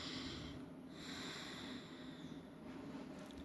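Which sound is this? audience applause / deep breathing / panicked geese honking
deep breathing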